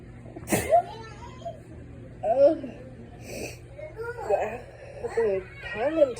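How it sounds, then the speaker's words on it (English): One sharp, loud sneeze from a person bothered by pollen bursts out near the start, followed by scattered vocal sounds and talk. "In a matter of 2 minutes, I've sneezed 6 times."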